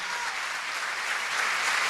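Steady crowd applause at a National University of La Matanza honorary doctorate ceremony for the Supreme Court president, dense and even, continuing without a break and swelling slightly toward the end.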